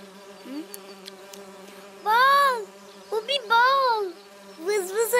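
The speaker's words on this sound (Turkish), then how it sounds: "Vız vız vız vız uçuyor arı." Cartoon bee buzzing, a few bright, wavering tonal buzzes that rise and fall, each lasting about a second, over soft background music.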